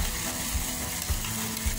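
Red chilli paste for a momo chutney sizzles and fries in a hot pan, with a steady crackling hiss and a few soft stirring scrapes, heard up close with no talking.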